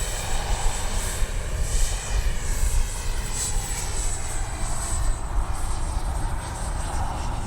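An Arrows RC F-15 model jet with twin 64mm electric ducted fans flies overhead with a continuous loud whooshing roar and a high fan whine, rising and falling slightly as it passes.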